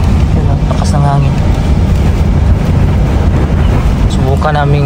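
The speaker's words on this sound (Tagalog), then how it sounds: "Lakas ng hangin yung sasakyan namin, oh." Strong wind buffets a car parked by the sea in Greenland, making a loud, steady, roaring rumble that persists throughout while voices talk over it.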